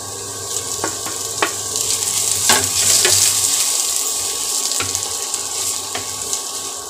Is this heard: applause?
no